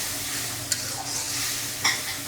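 Steady sizzling of food cooking in a pan, with a couple of sharp scrapes from a spoon stirring against the metal.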